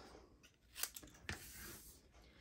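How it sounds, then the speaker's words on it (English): Paper snips trim excess cardstock for a watercolor cherry card, giving two or three quick, quiet snips close by, with soft handling rustle between the cuts. "the first thing you want to do is cut off all the excess cardstock"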